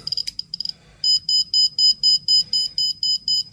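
An SBM-20 Geiger counter's radiation alarm beeps rapidly, first a few quick clicking chirps, then a steady train of sharp high-pitched beeps repeating about four times per second.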